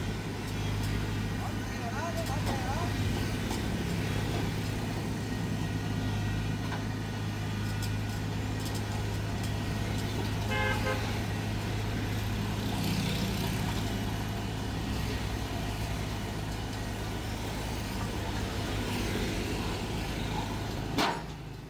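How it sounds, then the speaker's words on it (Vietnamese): A Kubota DC35 mini combine harvester's engine runs steadily, a close, constant mid-low drone with a humming tone as the machine drives onto a truck, with people talking nearby over it. "Rồi, máy bắt đầu giờ lên luôn nha."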